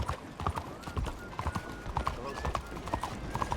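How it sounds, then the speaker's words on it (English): Horse hooves clip-clop at a walking pace in Red Dead Redemption 2, a regular, fairly close patter of hoofbeats with a faint tonal game sound running under it, while someone talks over the top. "The horse is tired actually. Let's not run."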